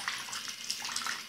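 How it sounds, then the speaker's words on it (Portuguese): Water gushes steadily from a tap into a basin while a Monster High doll's hair is being washed, a continuous close splashing hiss with no pauses. "Então vamos abrir a torneira aqui."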